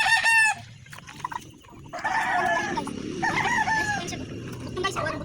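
A rooster crows loudly at the start, followed by several hens clucking and squawking nearby with faint background noise.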